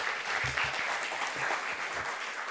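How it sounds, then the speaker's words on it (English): An audience claps in a library lecture setting, a dense, steady burst of applause filling the moment, close and loud with no voices over it. "So give him a round of applause."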